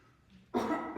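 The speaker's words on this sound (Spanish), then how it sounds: "necesito toser" A single short, close cough bursts out after a quiet pause during a Spanish sermon, and no one talks over it.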